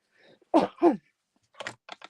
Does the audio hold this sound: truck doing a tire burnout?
no